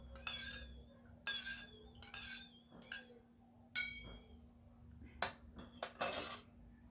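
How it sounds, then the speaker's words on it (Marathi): Spoon clinking repeatedly against a bowl while stirring milk and rosewater, a series of close, bright metallic taps in irregular bursts with quiet pauses between. "हे आपण सगळं चमच्याने मिक्स करूया"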